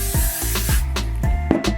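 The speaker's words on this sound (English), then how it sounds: "I'm using my Got2b free spray." Got2b hairspray hisses out of an aerosol can in four quick, close bursts, each a short sharp spray.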